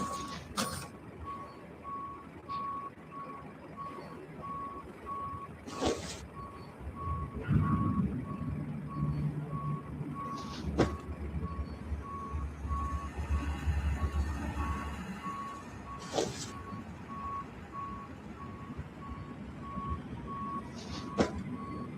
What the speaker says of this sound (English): He's gonna hop back on the truck and back it out.